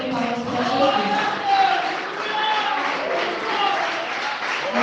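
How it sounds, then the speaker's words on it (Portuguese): Congregation at an evening church service giving a round of applause for Jesus, a steady wash of clapping with voices mixed in, holding even throughout. "dê a melhor salva de palmas para Jesus"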